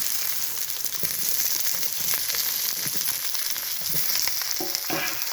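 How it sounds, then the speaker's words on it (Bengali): Potato and brinjal frying together in mustard oil with cumin, onion and green chilli, a dense continuous sizzle close up with scattered crackles and spoon scrapes, no talk. "আমি খুব সুন্দর করে আলু আর বেগুনটা একটু ভেজে নেব"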